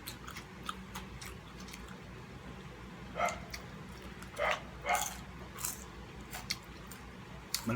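Crunchy chewing of dried fish (dangit) comes in a few short bursts close by, over a low background murmur.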